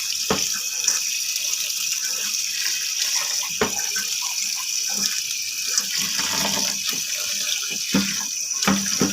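Cooked Maggi noodles being rinsed under cold running tap water in a sink, a steady close gushing stream with occasional splashes and knocks.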